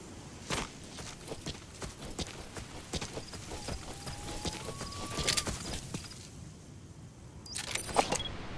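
Horse hooves clip-clop steadily in Metal Gear Solid V: The Phantom Pain, a faint, close rhythmic series of sharp hoof strikes with some jangling and a brief tonal sound partway through.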